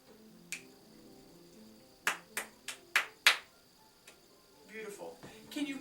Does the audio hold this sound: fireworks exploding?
no